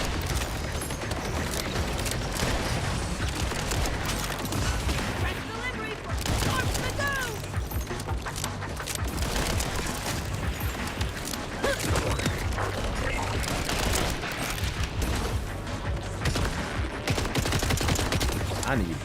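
Video game gunfire from a shooter, dense rapid bursts and fusillades of shots that keep going, loud and continuous, with a voice talking over the battle.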